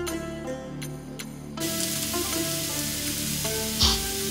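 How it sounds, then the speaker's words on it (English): Garlic and saffron milk cap mushrooms sauteing in a pan, a quieter opening that gives way to a dense, continuous sizzle with a brief clatter near the end. "Saute your garlic for a while before dropping in your saffron milkcap mushrooms."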